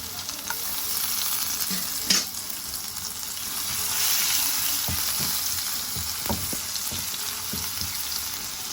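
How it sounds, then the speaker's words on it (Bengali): Chopped garlic frying in oil in a pan for honey chicken wings, a continuous sizzle with occasional stirring clicks and scrapes, close and moderately loud. "রসুনটা ভেজে নিব"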